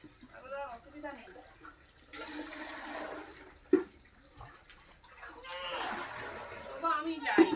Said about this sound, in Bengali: চলো জল ধরছি।